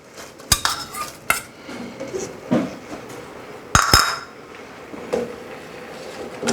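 A spoon stirs curry and scrapes around a metal pot, with several sharp clinks against the rim amid a soft simmering background.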